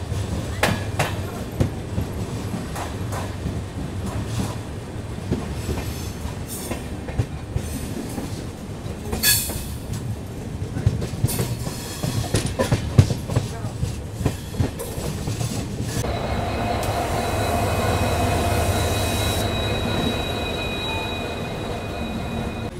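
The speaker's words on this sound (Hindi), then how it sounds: "प्लेटफॉर्म नंबर 2 पे अपनी काशी विश्वनाथ एक्सप्रेस आ रखी है।" The 15127 Kashi Vishwanath Express sits at a quiet, leafy railway station platform while wagons roll past nearby. Clattering wheels, metallic squeals and sharp clanks ride over a constant rumble that swells into a steadier drone near the end.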